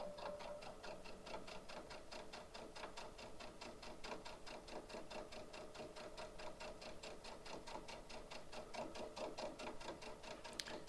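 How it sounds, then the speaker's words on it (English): A sewing machine stitches fabric in one steady continuous run, its fast, even ticking chatter heard up close with no talking. "So it's stitching in place, and then we'll just sew across."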